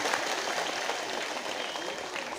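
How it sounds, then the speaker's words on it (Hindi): A crowd at a political gathering in Gorakhpur gives strong applause, a thick, unbroken clatter of many hands clapping at fairly close range, steady throughout with faint voices mixed in. "अपने अपने जोरदार तालियां बजाइए।"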